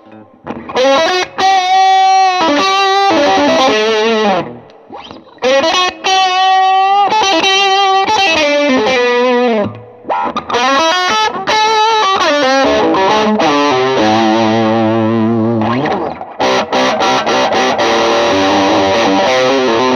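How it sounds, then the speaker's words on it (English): A heavily distorted electric guitar, a 1992 PRS Koa through a Suhr Riot distortion pedal, plays chords and sustained riffs, gritty and loud, with short pauses between phrases and no talking. "that killer distortion I'm getting is from the Suhr Riot pedal"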